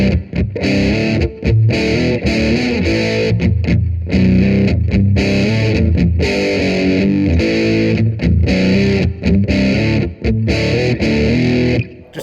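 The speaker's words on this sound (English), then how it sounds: "Just to get that heavy sound in there with the other guitar playing the regular power chords." Heavily distorted electric guitar chugs through power chords from a song, with a thick, loud, rhythmic tone and brief gaps between the chords. There is no voice.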